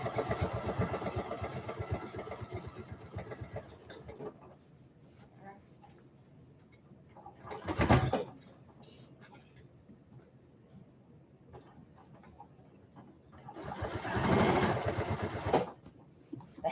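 A sewing machine stitches in quick rapid bursts, a busy mechanical whirr at the start and again near the end, separated by quieter stretches with a few soft clicks and someone speaking.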